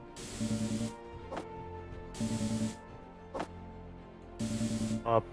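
Three short pressurized spray bursts from painting skins onto blocks in Space Engineers, each a hissing blast of about a second, separated by quieter gaps with soft clicks.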